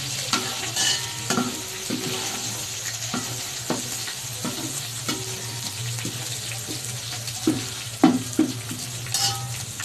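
Onions sizzle in a pan for chicken biryani while being stirred, a steady frying hiss broken by regular scraping and clinking strokes of the spoon.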